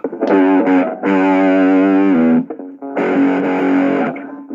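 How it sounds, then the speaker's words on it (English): Electric guitar played through an amp with distortion engaged, sounding as two sustained, saturated chord passages with a short break between them, loud and alone without any talking. "Should probably turn off the distortion on the amp"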